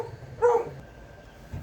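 One excited dog gives a single short bark at moderate distance over a quiet background.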